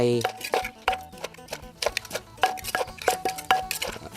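Papaya salad with pickled field crab pounded in a mortar: rapid, irregular knocks of a pestle with clinking and wet thuds, close and fairly loud, with no voice.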